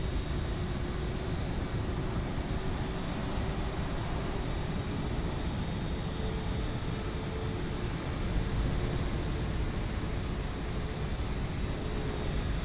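In Microsoft Flight Simulator 2020, a Vueling Airbus airliner departs at sunset with a steady, broad jet engine roar that holds evenly throughout, with no talk.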